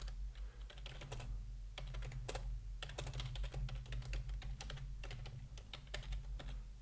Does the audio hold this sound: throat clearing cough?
no